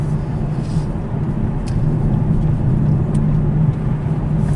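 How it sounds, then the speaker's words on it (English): Saab 9-3 TurboX engine running while driving on a wooded road in manual mode, a steady, loud, low drone of engine and road noise with no sharp rise in revs. "I'm in manual mode, which makes it a little bit more fun because I can go down a few gears and let the engine rev a bit"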